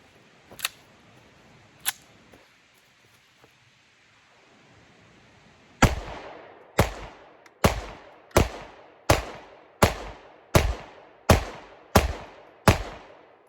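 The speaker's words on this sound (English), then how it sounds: "let's put 10 rounds through the Staccato and then 10 rounds through the SIG" Staccato C2 and SIG P229 pistols fire a steady string of about ten sharp, loud shots at an even pace, each with a short decaying tail, after two isolated earlier cracks and a quiet stretch.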